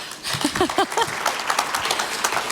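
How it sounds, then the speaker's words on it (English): Scattered applause rises from an audience at a business talk after a volunteer comes on stage, with a voice speaking briefly near the start and a loose spread of claps continuing beneath it. "Give them a round of applause."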